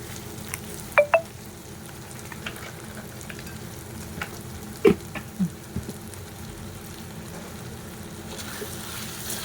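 Onion, garlic and homemade black masala fry in a pan at home, giving a steady low sizzle with a few soft clicks of a utensil. It stays close and even, with no talk.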